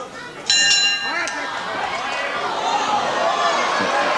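A boxing-style round bell clangs once with a ringing tail at a 1984 UK wrestling match, Marty Jones versus Fit Finlay, over crowd noise and a commentator speaking.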